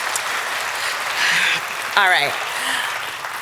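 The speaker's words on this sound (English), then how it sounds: "look, people are clapping already" Audience applause fills a conference room, a broad wash of clapping running steadily throughout while a voice speaks briefly over it.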